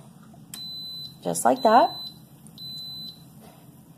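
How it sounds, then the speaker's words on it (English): An Instant Pot beeps as its saute mode switches on: a thin, high electronic tone sounds in short repeated pulses, with someone speaking briefly partway through. "first it'll switch to on. And you'll hear it beep"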